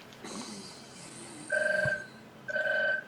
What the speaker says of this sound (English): There's a phone ringing somewhere in my room.